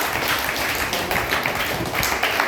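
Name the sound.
children clapping loudly at quiz prize-giving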